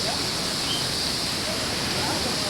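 The Seti River in Pokhara flows beneath a bridge, a steady, loud broadband rush of water that fills the whole moment without pause.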